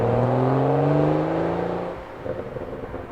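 A 2011 BMW 335i with a twin-scroll turbo engine revs up in a smooth, rising tone, holding strongly for about two seconds before easing off and settling into a quieter, rumbling idle, with no talk.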